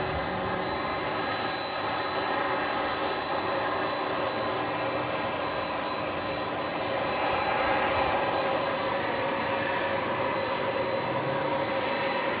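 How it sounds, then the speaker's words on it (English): A three-engine jet at DFW airport at night produces a steady, broad engine roar with a thin whine, unchanging and moderately loud throughout, with no voices. "We've dialed up the gain here a little bit for this Tri-Jet."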